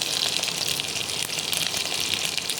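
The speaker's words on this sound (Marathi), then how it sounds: "सो करीपत्ता धुवून घे आतां." Running water pours steadily over curry leaves being rinsed for a dal fry, a continuous close gushing splash with no talk.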